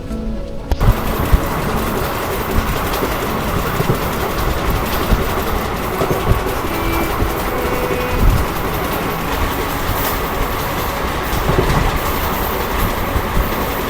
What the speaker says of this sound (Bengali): আমাদের ট্রেন এখন বেশ ভালো স্পিডে দৌড়াচ্ছে একশোর উপরে দৌড়াচ্ছে